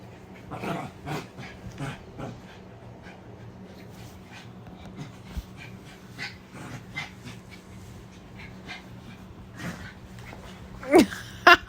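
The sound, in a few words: dog panting and whimpering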